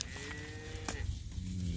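Cattle low and moo in a field of dry red clover, a drawn-out tonal call at moderate distance over faint outdoor background, with a second moo starting near the end.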